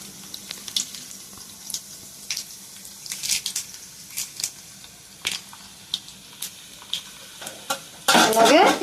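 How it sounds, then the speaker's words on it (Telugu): Tempering spices, with dried red chillies and curry leaves to follow, frying in hot oil for gongura pickle. Scattered light clinks and stirring give way to a loud, sudden burst of sizzling at the very end. "తాలింపులు వేసుకుందామండి. నూనె వేడెక్కింది."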